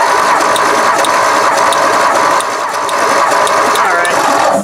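The engine of a 1960 Edsel Ranger two-door sedan is cranked over by its starter during a compression test, a loud, close, steady rhythmic chugging whir that runs several seconds without firing.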